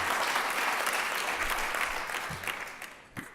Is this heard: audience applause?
yes